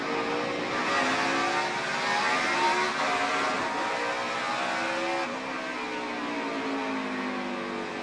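NASCAR stock car at Martinsville's night race, heard onboard at the start as the engine roars and accelerates steadily and loudly through gear changes, with no talk.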